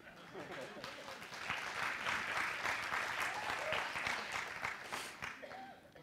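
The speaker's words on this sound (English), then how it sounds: "Y'all can clap and cheer for that." Audience in a hall at a Shabbat panel bursts into sustained applause with scattered cheers, a dense, steady clapping that swells and holds for several seconds before thinning out.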